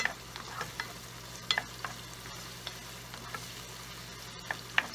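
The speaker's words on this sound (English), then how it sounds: "And I'm gonna add the ginger as well." Ginger strips frying for a chicken curry, with a quiet steady sizzle and scattered sharp clicks of a utensil stirring the pan. No voices.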